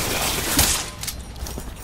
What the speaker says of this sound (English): Man, who the hell is shooting?